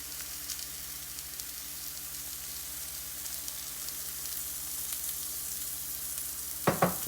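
Eggplant pieces frying in olive oil in a pan give a steady, soft sizzle throughout, with a couple of sharper crackles and pops near the end.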